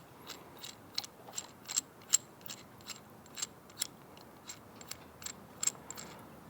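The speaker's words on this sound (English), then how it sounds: "you'll actually be screwing it in clockwise on your left-hand side" Small tool clicking steadily while a crank puller is screwed onto the left crank arm of an Aventon Aventure e-bike, faint, close ticks in an even rhythm.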